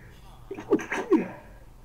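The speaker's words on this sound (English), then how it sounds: "Oh, I've got to sneeze again." A person sneezes once, close and sudden, with a brief sharp intake just before the burst, during a Minecraft hardcore-mode session; no talking around it.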